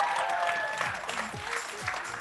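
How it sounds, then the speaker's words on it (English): A room of people claps steadily at a startup demo day. The applause is moderately loud and sustained, with a faint tonal hum underneath. "Let's give another round of applause."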